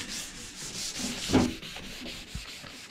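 Close, steady rasping of sandpaper rubbing back and forth by hand over a boat hull in repeated strokes, with no voices.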